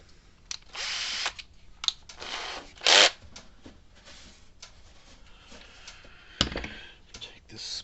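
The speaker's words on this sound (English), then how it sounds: "we're going to just drill a small hole" Several short bursts of a power drill boring a small hole during repair of a Zareba Blitzer or American Farmworks 10-mile solar fence charger, close and fairly loud, separated by quieter handling clicks and shuffling.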